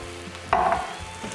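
Soy-based sauce poured into a hot pan of fried ginger and garlic for Chinese-style pork ribs, giving a sudden brief sizzle after a quiet moment that fades into a soft bubbling hiss.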